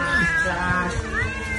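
A cat meows insistently while being fed rice, a drawn-out, wavering cry followed by a second rising meow, close and fairly loud over a little background noise.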